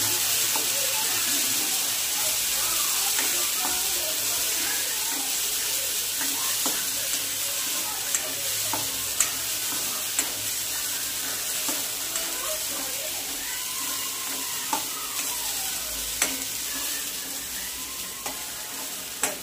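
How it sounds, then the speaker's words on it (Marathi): Ground masala paste frying in hot oil, hissing and sizzling steadily while a spoon scrapes and stirs it in repeated short strokes, close and continuous. "वाटण 4-5 मिनिट परतून घेतात तेलामध्ये"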